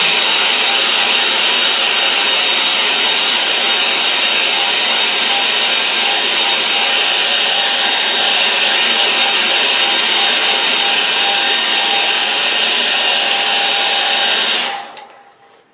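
A hair dryer blows steadily on wet watercolour paint for about fifteen seconds, a loud, even broadband whoosh with a faint tonal whine, then cuts off abruptly at the end.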